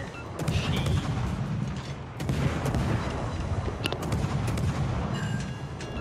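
Naval gunfire in World of Warships, a dense run of booming artillery salvos and sharp gun reports rolling one after another over a steady low battle rumble throughout.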